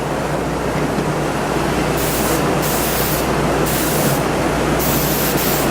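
Steady hiss of clear lacquer sprayed onto a piece, a continuous broadband spray with short pulses of stronger bursts, close and alone with no talk.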